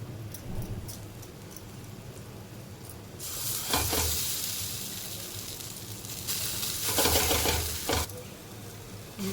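Sabudana thalipeeth roasting on a pan, a quiet hiss that swells into a loud, close sizzle in two bursts with a few clatters of the pan or spatula, no talk.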